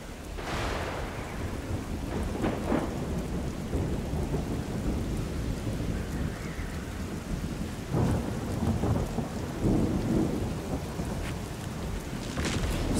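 Ongoing rainfall and rolling thunder fill a stormy scene in the Strayed Lights video game, with several distinct cracks and rumbles scattered over a constant wash of rain.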